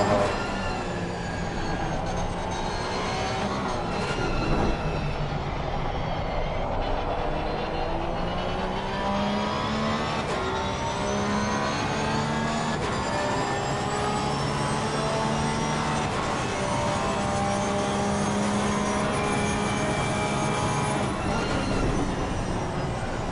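GT3 race car in Assetto Corsa Competizione lapping the Zandvoort circuit, a steady loud engine drone with rising and falling pitch sweeps through gear changes, continuous for the whole stretch with no talking.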